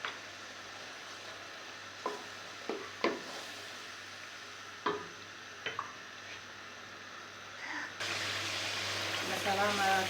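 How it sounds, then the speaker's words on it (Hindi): Masala spices fry in a pan for a red kidney bean curry: a few scattered clinks and stirring knocks, then a steady, louder sizzle rises near the end. "इसमें डाल देते हैं ताकि अच्छे से ये मसाला भुन जाए।"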